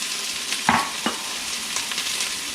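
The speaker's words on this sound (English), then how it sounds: "So now we take our onions and we dump them in. So we saute these a little bit to draw out some flavor." Chopped onions sauté in a hot Instant Pot, giving a steady close sizzle with a couple of brief spoon knocks as they are stirred. No one speaks.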